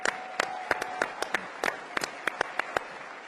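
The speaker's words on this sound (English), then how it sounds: "Give yourselves a round of applause." Audience applause at a Conservative Political Action Conference gathering in Maryland: scattered, fairly faint clapping with sharp irregular claps standing out over a softer crowd bed, steady for a few seconds.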